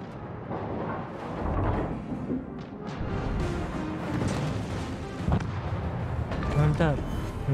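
Naval guns and shell explosions in the World of Warships game, a series of deep booms and rumbling blasts layered with battle noise and someone speaking over the top.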